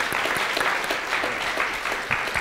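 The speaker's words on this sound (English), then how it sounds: "I think he deserves a round of applause for his brilliance" Audience applause at a business interview event in Vancouver, a steady dense patter of many hands clapping close by for a couple of seconds with no talk over it.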